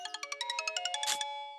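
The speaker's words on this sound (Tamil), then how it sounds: "ஏப்பா, இந்த மாவட்டம் ஃபோன் பண்ணிட்டே இருக்காருப்பா." A phone ringtone chimes in a rapid series of about a dozen bright, evenly spaced electronic notes, ending in a brief brighter burst and a sustained tone, clear and alone with no talking.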